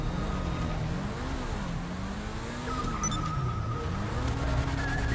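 A car driving in Grand Theft Auto, with a steady mid-level engine hum that rises and falls in pitch as it speeds up and eases off, continuous and fairly close throughout.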